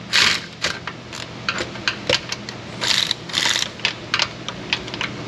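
Socket ratchet turning a bolt on a Ford Explorer with the 4.6 engine during an oil pan teardown: a quick run of sharp close clicks in short bursts, dense and irregular, with no talk.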